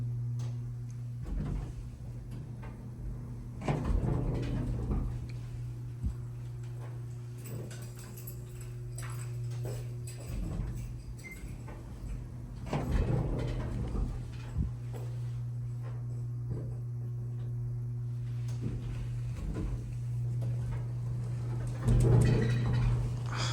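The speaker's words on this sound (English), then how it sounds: "Something is really messed up with the door operator." A faulty door operator on an older Otis Series 1 hydraulic elevator at a Wells Fargo building labors with a steady low hum, punctuated by repeated knocking thumps and clunks as the door struggles, with no talk.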